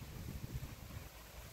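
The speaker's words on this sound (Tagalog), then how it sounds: "lakas ng hangin." Steady low rumbling wind buffets the microphone throughout, a continuous muffled roar with no voices.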